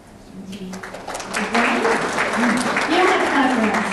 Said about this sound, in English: don't have to clap for us